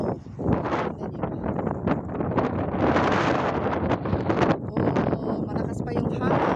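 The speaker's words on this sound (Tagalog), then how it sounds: "malakas pa yung hangin" Strong wind buffets the microphone during a snowfall in Moscow, a loud roar that keeps rising and falling all the way through, and a person speaks beneath it.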